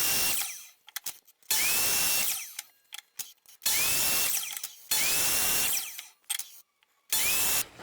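A power saw cuts wood for a Christmas tree shelf in four loud, sustained bursts, each spinning up with a rising whine and then winding down, separated by short clicks and pauses.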